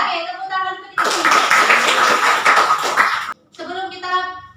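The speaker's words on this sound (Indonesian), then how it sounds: "Oke, tepuk tangan untuk kita." A classroom group claps hands together in a burst of roughly two and a half seconds, bracketed by a teacher's speech before and after during a microteaching practice lesson.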